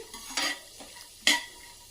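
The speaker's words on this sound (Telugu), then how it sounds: "ఇందులో కొద్దిగా పుట్నాల పప్పు వేసుకోండి. వేసుకొని కలుపుకోండి." Puffed rice masala mixture is tossed with roasted gram, giving two brisk, dry rustling scrapes close up, with a softer shuffle between them and no speech.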